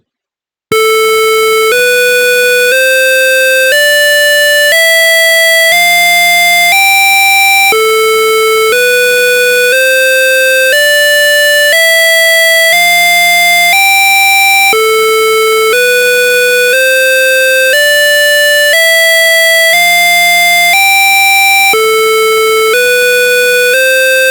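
Loud electronic beeping tones from an ATmega32 microcontroller tone generator step through a short repeating melody of square-wave notes, the same pattern cycling over and over without pause.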